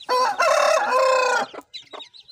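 A loud, close call from a Kadaknath cross-breed chicken: one long, drawn-out squawk, then a few softer, broken clucks.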